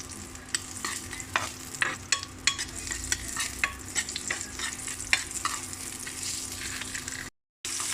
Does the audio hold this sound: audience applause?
no